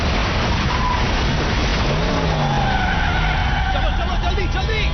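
A car skids with sliding tire squeals over a loud rumbling backdrop in a dubbed action film scene during a storm, the noise steady and close.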